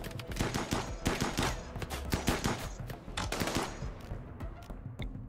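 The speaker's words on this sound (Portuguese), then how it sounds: "Certo, vai atirando." Rapid gunfire from a battle in RimWorld, with dense overlapping shots rattling in quick succession, then thinning out toward the end.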